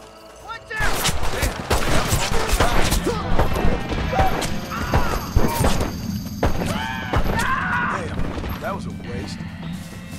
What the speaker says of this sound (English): time to test out my new gun